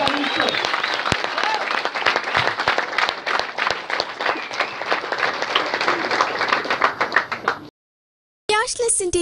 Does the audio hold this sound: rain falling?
no